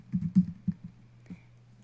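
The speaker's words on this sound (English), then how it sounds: "I can simply type in using whatever keyboard is native to my device." Quick taps on a mobile device's native touchscreen keyboard, a short burst of close, soft clicks followed by a couple of isolated taps, with no voices.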